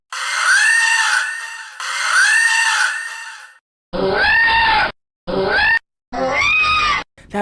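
Ridley's shrill, warbling scream from Metroid: Zero Mission on the Game Boy Advance: two long screeches, then three shorter cut-off bursts, loud and alone.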